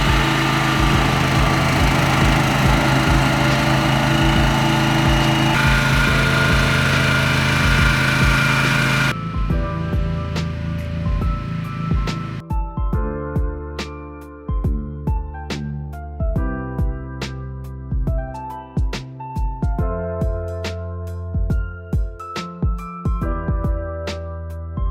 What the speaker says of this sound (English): so I finally got the flail mower attached, and now this will be a great tool to just burn through all this tall green material.